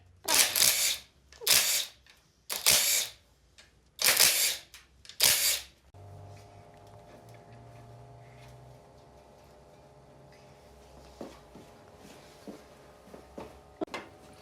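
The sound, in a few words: camera shutter taking photos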